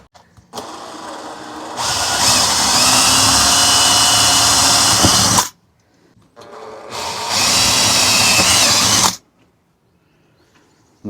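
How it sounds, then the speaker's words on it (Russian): A power drill boring holes into a steel angle bracket inside a motorhome, two loud whining bursts of several seconds each, starting up and stopping abruptly with quiet gaps between, no speech. "засверлим дырочки и закрутим его болтами"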